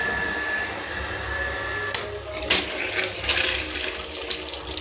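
Water leaks and pours from a water pump, a steady close rush of running water with a few louder splashing bursts in the second half.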